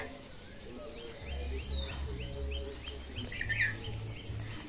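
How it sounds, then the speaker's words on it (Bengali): Sparrows come to feed on paddy rice, giving short, quick chirps in scattered bursts, with a low hum and faint background sounds underneath. "ধান খাইতে আসে চড়ুই পাখি"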